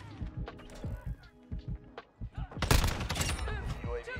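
Gunfire in a Call of Duty match, a sharp burst of rapid shots around the middle, preceded by scattered game sounds and muffled voices, fairly quiet overall.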